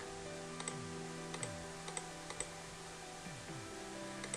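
Quiet keystrokes on a computer keyboard come in short irregular bursts of clicks over soft tonal background music, with no speech.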